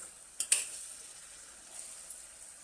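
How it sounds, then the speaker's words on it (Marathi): Masala paste for egg curry sautéing in oil, a faint soft sizzle with a couple of brief stirring clicks near the start, quiet and close, with no talk. "छान तेल सुटेपर्यंत ही पेस्ट चांगली आपण परतवून घेऊ"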